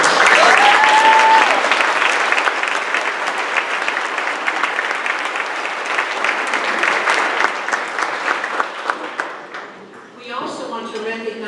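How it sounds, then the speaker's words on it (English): A seated audience at an annual awards luncheon gives sustained applause for honorees, dense steady clapping that fades out near the end as a voice begins. "Let's please give them a round of applause."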